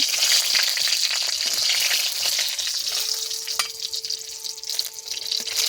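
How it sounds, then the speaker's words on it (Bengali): Bay leaves and dried chillies fry in hot oil in a village kitchen, giving a steady, close sizzle with light stirring throughout. "তেজপাতা ফোড়নটা দিয়ে দিচ্ছি, শুকনো লঙ্কা দিয়ে একটু নেড়ে চেড়ে নেব।"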